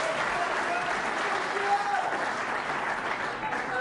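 Snooker arena crowd applauding steadily at a world championship final, a dense, sustained clatter of many hands that stays loud and even throughout, with a faint voice or two mixed in.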